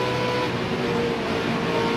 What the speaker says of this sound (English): You heard Tony have to back completely out of the throttle.